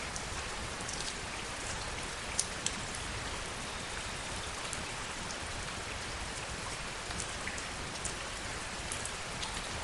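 Steady rain falls in an even, dense hiss with scattered droplet ticks, constant and moderately close for the whole stretch, with no voices.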